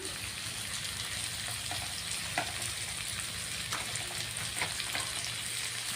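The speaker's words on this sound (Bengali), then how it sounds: "এবার আর একটু বন্ধুরা কষিয়ে নিব এই দুই তিন মিনিটের মতো" Spices, long beans and potatoes sautéing in a pan with green chilli paste and cumin powder, making a steady, dense sizzle with faint stirring scrapes throughout.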